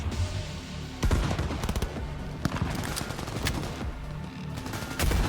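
Heavy, sustained gunfire in Cyberpunk 2077, rapid automatic bursts with sharp loud shots stacking into a near-constant barrage, with shouted in-game voices.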